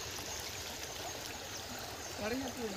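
A river stream flows on a morning outdoors, with hills rising ahead. Water rushes and trickles in a steady, continuous wash, and a faint voice is briefly present near the end.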